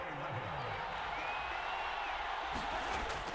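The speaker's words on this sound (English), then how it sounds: "This crowd turning up the decibel level." A stadium crowd in Madden NFL 24 roars in a steady, dense wash of cheering that swells slightly toward the end, with a faint voice underneath.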